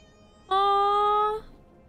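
A steady tonal meow-like cry from the cat in Dead by Daylight, about one second long, clear and close against faint game background.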